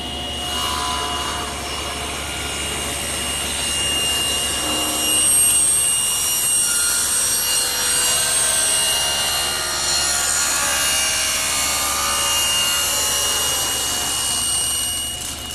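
A table saw cuts tapers on wooden table legs pushed through with a jig, producing a loud steady whining roar with shifting grinding tones that rise and fall slightly as the wood feeds through, with no talking.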